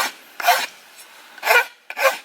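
A rasp files a bamboo bow limb in three rough strokes, each a short scratchy burst of rasping with quieter pauses between.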